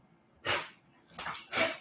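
Dogs bark nearby in three sharp, loud bursts, one alone and then two close together.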